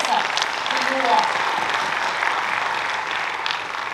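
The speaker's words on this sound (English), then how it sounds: "Let's all give them a good clap from our side to you all." An audience applauding at a college freshers' day in a hall, a steady wash of clapping that holds for several seconds, with some voice mixed in.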